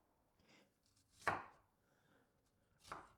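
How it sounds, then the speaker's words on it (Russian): Two sharp knife chops on a cutting board while shallots are finely diced for a rabbit dish in white wine. The first stroke is louder, the second lands about a second and a half later, with faint softer cuts between and no talk. "начинаем с нарезки"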